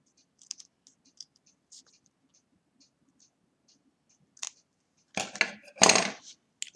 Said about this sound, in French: Excédent de ruban, on coupe.